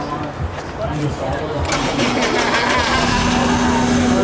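A Honda car with a manual gearbox starts by push button, the engine cranking and catching about halfway through, then settling into a loud, close, steady idle while people talk nearby.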